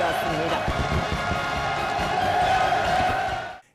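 Dense North Korean crowd cheering and chanting hurrah for Kim Jong Un at a large staged event, a loud continuous roar of many voices with clapping, sustained throughout before cutting off abruptly at the end.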